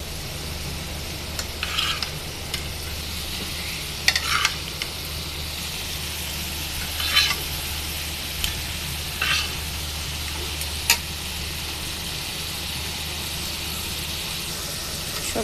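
Poa fish go into a pan of browned, boiled potato curry, giving a steady close sizzle of frying with a few brief louder scrapes and stirring clatters, no voices.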